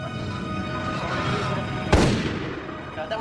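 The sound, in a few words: gunshot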